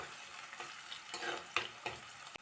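Crushed shallots stir-fry in a pan with a soft, steady sizzle broken by several scraping stirs of a spatula, faint and close, with no voices.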